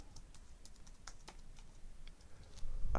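Soft, quick keystrokes on a computer keyboard as a label is typed in a database query, an irregular patter of light clicks heard close and quiet.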